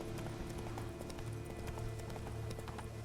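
Horse hooves clip-clop at a steady trot in The Witcher 3: Blood and Wine, each hoof strike sharp and regular over a constant low rumble of game ambience.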